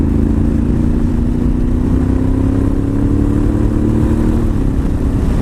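A Honda Africa Twin motorcycle with an aftermarket exhaust drones loudly and continuously with a deep, throaty exhaust rumble, revving with the pitch rising slightly then settling.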